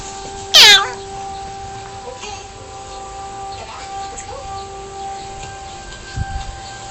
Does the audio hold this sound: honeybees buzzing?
no